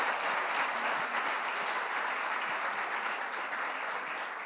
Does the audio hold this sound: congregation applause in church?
yes